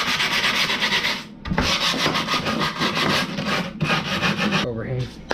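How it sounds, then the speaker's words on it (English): Scrunched grip tape is rubbed hard along the edge of a skateboard deck, like sandpaper: continuous, loud, gritty back-and-forth rasping strokes up close, with brief pauses between passes. "So I take that, scrunch it up, sandpaper like."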